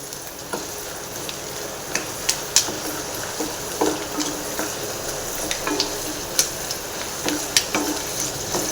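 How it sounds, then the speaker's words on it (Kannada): Ingredients for chitranna crackle and sizzle as they fry in hot oil toward golden brown, with scattered sharp pops and occasional stirring scrapes over a steady close hiss. "ಇದು ಚಟಪಟ ಅಂತ ಸೌಂಡ್ ಬರ್ತಾಯಿದೆ"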